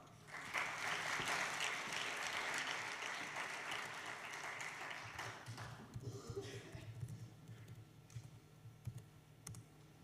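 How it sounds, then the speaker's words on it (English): Conference attendees at a forum give a round of applause, loud dense clapping for about six seconds that thins to scattered claps, with a voice beginning over the tail. "Please applause"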